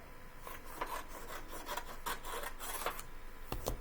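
A notebook paper page is trimmed, giving a steady run of short, dry scraping and rasping cuts that repeat close by at moderate volume, with no talking.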